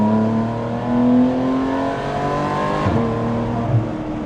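A sports car engine hums and revs with a smooth rising and falling drone, close and fairly loud, followed by a quick throttle blip.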